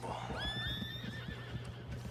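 A horse in the Western video game Red Dead Redemption 2 gives a loud rising whinny over a low steady hum and soft clip-clop, with no talk.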